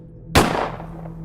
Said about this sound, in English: I decided to shoot myself